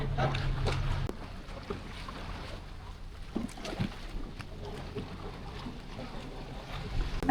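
Motorboat ride across open water to Boracay Island, a steady low engine drone with wind and water wash throughout, a heavier rumble in the opening second before settling into a continuous hum.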